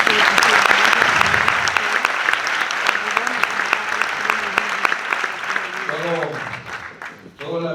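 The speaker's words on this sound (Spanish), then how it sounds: "Un aplauso para él." Warm applause from an audience at a 40th anniversary commemoration of the Atocha lawyers in Madrid, honouring César García; loud, sustained clapping that thins out near the end while voices murmur underneath.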